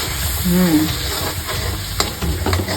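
Pav bhaji gravy with masala simmering and frying in a pan, a steady close sizzle with stirring scrapes and a brief clatter near the middle, no talk.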